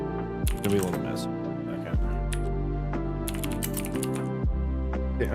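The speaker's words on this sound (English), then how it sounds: "I'm typing in make transform" Keys clatter on a computer keyboard in quick bursts of close clicks over a steady tonal background hum.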